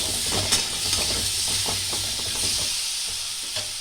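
Mango chutney stirred in a pan with salt and turmeric: a steady sizzle and hiss with a run of close scraping spoon strokes, no voices.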